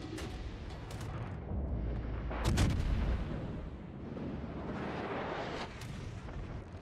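Naval ship front gun turrets fire in the World of Warships video game: several booming shots, the heaviest near the middle, ring out over a steady low rumble of battle.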